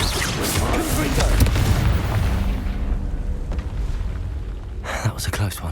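A Confringo spell explosion in the video game Hogwarts Legacy: a loud, dense booming blast over heavy low rumble, fading into a softer burst, with game voices and effects layered around it.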